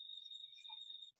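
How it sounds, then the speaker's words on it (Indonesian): Crickets chirp outdoors during an open-air meeting, a steady, continuous high-pitched trill that runs unbroken for about a second before stopping, with faint background sounds beneath. "kita berada di ruang terbuka, jadi suara jangkrik"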